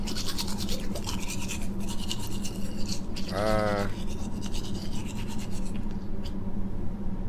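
Steady, close toothbrush scrubbing from a horror video game, a rough rhythmic bristle scratching that runs the whole way through over a busy game background, with a brief tonal sound rising partway through.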